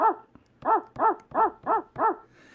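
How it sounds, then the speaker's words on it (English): A dog barks five times in an even, steady rhythm, close and fairly loud, with no other sounds around it. "We can have this dog barking in the background."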